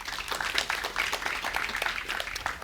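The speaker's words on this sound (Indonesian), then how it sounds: "Bisa beri tepuk tangan buat Tuhan." Church congregation at an Easter service applauds, a steady dense patter of many hands clapping from a mid distance, continuing evenly throughout.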